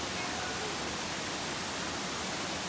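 Steady broadband rush of a stream and small waterfalls at Ping Nam Stream in Hong Kong, an even hiss with no breaks, moderately soft and continuous.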